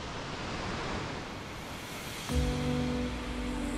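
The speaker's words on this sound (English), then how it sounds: "Here we are, the tallest waterfall in the world, but you can't see it." Angel Falls, a towering waterfall shrouded in mist, gives off a steady, distant rushing roar, with a faint tonal hum entering near the end.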